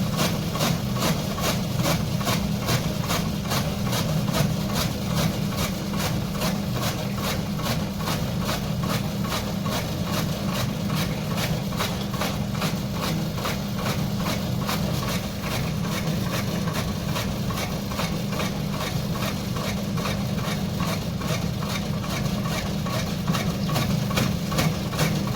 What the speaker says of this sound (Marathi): ते जातील ट्रॅक्टर घेऊन